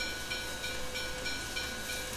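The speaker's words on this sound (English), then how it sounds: "This is a really nice bell sound." A CN S1b 2-8-2 steam locomotive's bell in Trainz 2019 rings at a steady, even rhythm, quiet beneath a constant steam hiss.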